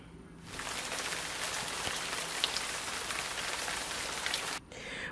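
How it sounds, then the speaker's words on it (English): Steady rain hissing and pattering on a surface, dense and even, starting suddenly and cutting off near the end. "It is raining"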